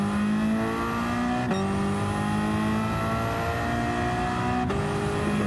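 Touring race cars in a racing video game, a Ford Focus among them, with a steady high engine drone holding pitch and two sharp gear-shift dips, loud and continuous with no talking.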